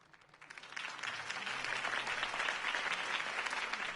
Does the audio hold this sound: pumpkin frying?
no